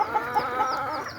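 Many chickens clucking on a farm, a close cluster of short, bright clucks in quick succession over a steady background murmur of the flock.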